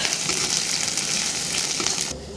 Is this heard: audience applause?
no